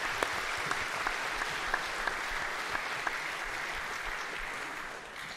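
Steady audience applause at a live morning show, a crowd clapping continuously at moderate distance for the whole stretch, a few sharper claps standing out, fading slightly at the very end.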